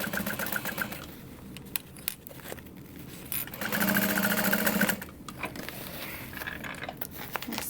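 A sewing machine stitching a fabric baby sling, fast mechanical whirring in uneven bursts that swell louder in the middle, with no talk.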